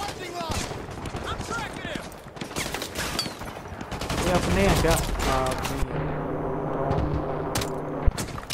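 Gunfire in Call of Duty: Modern Warfare 2, with rapid bursts of shots and explosions rattling through a busy battle while players talk over it.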